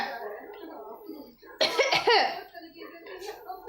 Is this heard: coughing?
yes